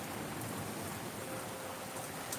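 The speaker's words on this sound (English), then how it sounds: "I just stopped to see the rain for a second." Rain falls steadily outside an open doorway, a soft, even hiss of drops with no other sounds standing out.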